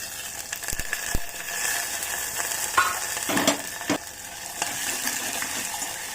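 Onion and fresh curry leaves frying in a pan with black gram dal and garlic, a steady moderate sizzle with scattered clinks and stirring scrapes.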